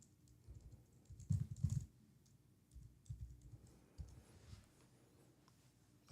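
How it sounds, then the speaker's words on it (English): Fingers type on a computer keyboard in short irregular bursts of soft clicks with pauses between, quiet and close, with no talk. "If I can type."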